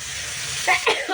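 Water poured into spiced masala frying in a pan gives a broad hissing sizzle, close and steady, with short bright spurts near the end.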